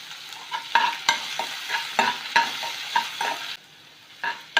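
Chopped onion and green chili sautéing in a pan for a potato paratha filling. A spatula stirs and scrapes in regular strokes over a constant sizzle, close and fairly loud, with no voices.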